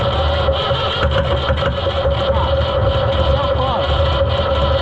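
An Oliver 1250-A tractor engine, long neglected, runs roughly and unevenly as if not firing on all cylinders, a steady loud rumble with uneven pulses throughout while people talk over it nearby.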